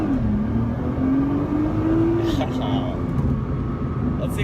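A Nissan GT-R revs at a dead stop before a launch, its engine holding a steady droning note that rises slightly, then dips, with voices talking over it.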